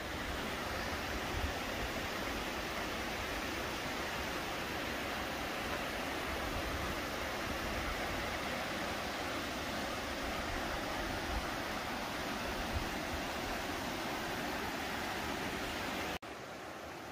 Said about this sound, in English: The beautiful waterfalls here.